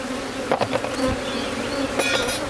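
Honeybees buzz steadily around an open hive during an inspection, a continuous close drone with a few louder passes of individual bees and light handling knocks.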